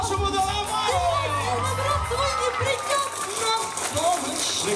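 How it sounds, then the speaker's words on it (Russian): Crowd at a live stage comedy show (a kapustnik performance) cheering and shouting, with excited voices and whoops rising over a steady roar of audience noise that fills the whole stretch. "И так аплодисменты вашему Домомару"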